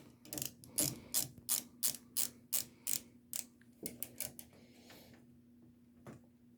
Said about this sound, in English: And then I'm going to push that clamp up and tighten the idler pulley on.